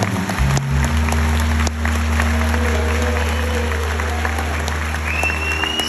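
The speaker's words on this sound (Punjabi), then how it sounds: "ਇੱਕ ਵਾਰੀ ਜ਼ੋਰ ਦਾ ਤਾੜੀ ਆਪਣੀ ਧਰਤੀ ਦੇ ਨਾਮ ਦੀ" Audience at a Satinder Sartaaj live concert in Australia breaks into loud, sustained applause, a dense wash of clapping with steady musical tones underneath.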